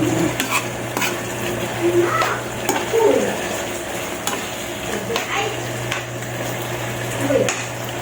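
Sweet and sour fish with vegetables gets stirred in a sizzling pan, a utensil scraping and clinking against the metal in irregular strokes over a steady frying hiss, fairly close and without talk.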